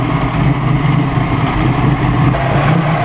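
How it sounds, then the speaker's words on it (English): A loud, deep Allison aircraft engine fitted in a car idles nearby at the 2008 Pebble Beach Concours, with a steady rumbling throb and no talking. "Yes, I think it has an Allison engine in it."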